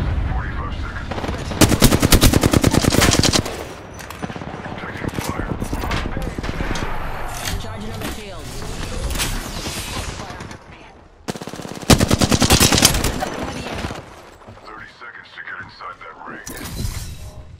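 Automatic weapon fire in Apex Legends, coming as long, loud, rapid bursts with sharp cracks and shatter sounds, broken by short pauses and ending in a final burst.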